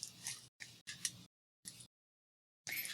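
Scissors snipping at a small Christmas plant indoors, several quick crisp cuts in short separate bursts with silent gaps between them.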